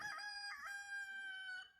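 A rooster crows once in a long, drawn-out call, clear and fairly near, with no one speaking.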